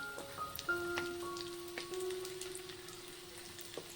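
Taro (chamadumpa) pieces fry in hot oil for a Telugu-style fry, giving a steady crackling sizzle with scattered pops and a few brief utensil clinks, moderately faint and with no talking.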